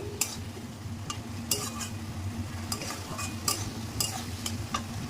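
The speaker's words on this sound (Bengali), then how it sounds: "তো মশলা দিয়ে মশলাটাকে ভালো করে কষিয়ে নেব।" Chicken masala is stirred and fried in a pan, giving a steady sizzle with repeated sharp scrapes and clinks of a utensil against the metal, close and fairly loud, with no talking.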